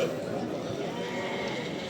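Sheep bleat at a busy sheep market in Ganja, Azerbaijan, under a dense crowd murmur, with talk and animal cries blending together close around.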